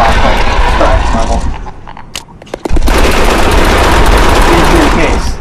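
Rapid automatic gunfire in the video game Borderlands rattles loudly in dense bursts, drops briefly to a lull with a few isolated shots, then resumes as a sustained close barrage.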